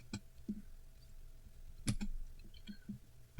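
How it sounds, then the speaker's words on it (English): Sparse keyboard clicks and taps at an irregular pace, a few keys at a time with short pauses, fairly close and quiet against a faint background hum. "I know you hear me type"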